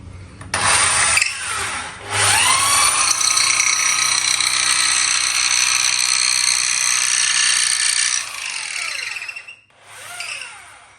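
A power drill bores steadily through a kudu horn shofar, a loud continuous whine that holds for several seconds, dips briefly, then resumes before cutting out near the end.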